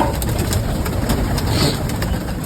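Pigeons coo softly in a low, continuous murmur, with faint repeated ticking and fluttering sounds over the top.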